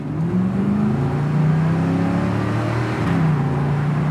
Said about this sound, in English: Look at this thing going down the road, Dalton, and it sat for 5 freaking years.